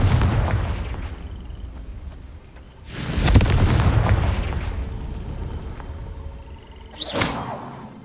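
Confringo blasting spell explosions in the video game Hogwarts Legacy, three heavy booming blasts spaced a few seconds apart, each with a loud crack and rumbling decay, the last one shorter with a whooshing tail.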